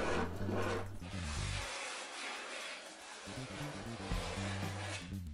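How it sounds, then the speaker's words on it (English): An old chisel scrapes spilled glue off a wooden surfboard rail in a workshop, giving a steady close rasping scrape that pauses briefly midway before resuming. "I need to clean up the glue that's spilled out of place. And to do that, I'm going to scrape it off using an old chisel."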